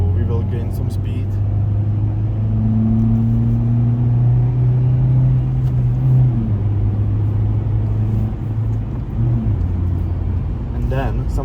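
A 2008 Mitsubishi Lancer gathering speed on the road, a steady engine drone and tyre rumble from inside the cabin with the pitch rising gradually, while someone talks over it.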